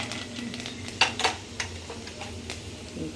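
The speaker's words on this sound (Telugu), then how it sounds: "కడాయిలో నూనె వేడెక్కాక ఆవాలు, మినపప్పు," Mustard seeds and lentils tempering in hot oil in a kadai, a soft sizzle with light stirring and a few sharp metallic scrapes and pops over about three seconds, close and alone without speech.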